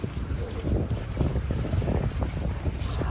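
Strong seaside wind buffets the microphone in continuous rumbling gusts, a loud, roaring roar with hints of surf beneath.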